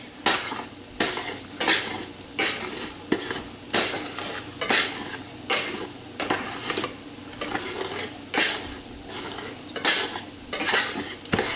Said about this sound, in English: Let's go ahead and get our eggs a stir.